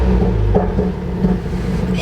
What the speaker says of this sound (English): And then you need to switch the car on.